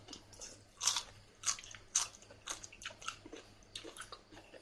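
Crispy pork being bitten and chewed up close, giving a run of sharp separate crunches at an uneven rhythm with quieter chewing between them, heard alone without talk.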